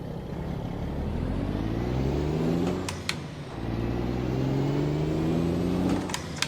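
Mack R truck engine in American Truck Simulator, a steady low diesel drone with rising and falling revs through two gear pulls, separated by a brief dip and a couple of sharp hissing bursts.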